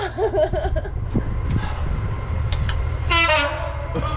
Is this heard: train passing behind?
yes